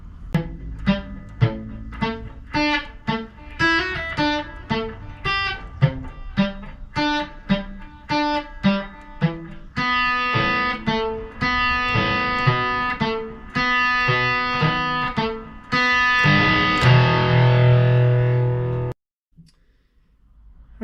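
Distorted electric guitar plays a bridge, a driving riff of picked, chugging notes that builds into sustained chords before cutting to silence.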